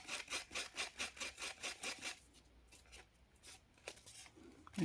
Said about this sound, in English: then I will just sand my wonky cutting off.